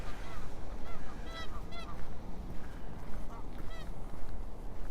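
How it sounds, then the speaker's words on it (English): Geese honk repeatedly in short bursts over a loud, steady outdoor background while walking around a lake in Regina in March, with several honks spread across the stretch at moderate distance. "How about take a look at the flying goose?"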